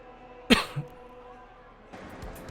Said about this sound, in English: Sorry, I had a coughing fit there.